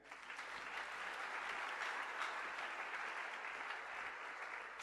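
Church congregation applauding in praise during a youth service sermon, a dense, steady wash of clapping that fills the whole span at even loudness with no break.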